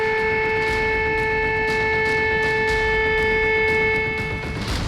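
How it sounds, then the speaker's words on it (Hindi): An air raid siren sounds over a Ukrainian city, a loud, steady, wailing tone with strong harmonics that holds throughout and is joined by faint, regular ticks. "जिन शहरों में थोड़े बहुत लोग बचे हैं, वहां लगातार हवाई हमलों का सायरन बज रहा है"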